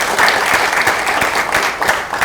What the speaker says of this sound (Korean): 이분들께도 박수 한번 부탁드리죠.